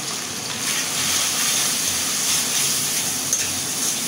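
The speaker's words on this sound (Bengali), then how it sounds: "মশলাটা আমি ভালো করে কষিয়ে নেব।" Spice paste with ground cumin and salt sautéing in a pan for shrimp with Malabar spinach, giving a steady close frying sizzle with a hissing, watery texture and no talking.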